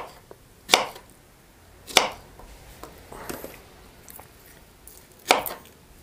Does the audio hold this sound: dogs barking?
no